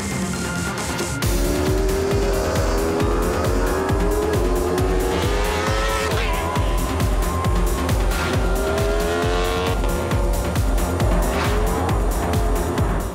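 Single-seater race car on slick tyres laps a track at speed, its engine roaring loud and close with rising and falling revs through rapid direction changes, accompanied by tyre noise.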